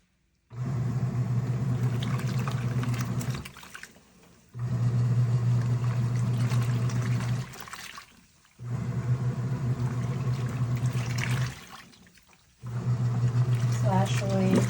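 Krib Bling full-automatic washing machine with drain pump, set to a 7-liter water level, running in repeated bursts of low droning motor hum and churning water, each lasting about three seconds with short pauses between.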